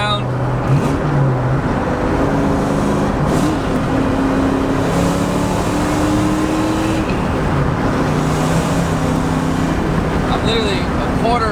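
A supercharged 700hp 2-valve Ford Mustang engine drones under light throttle, a steady rumbling tone that rises and falls slightly in pitch, with people talking over it inside the car.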